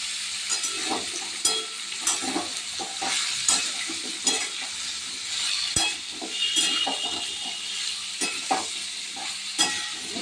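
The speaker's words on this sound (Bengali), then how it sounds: "হলুদ দেওয়ার পরে একটুক্ষণ কষাতে থাকতে হবে" Pumpkin pieces sautéed with turmeric in a pan, with a continuous sizzle broken by repeated spatula scrapes and light clinks against the metal, heard up close with no talking.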